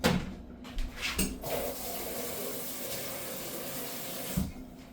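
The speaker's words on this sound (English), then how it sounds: "I have my spoon rinsed" A spoon is rinsed under a running kitchen tap during preparation of stewed beef short ribs, giving a close, steady stream of water hiss that runs the whole time, with a few brief clinks and splashes near the start and end.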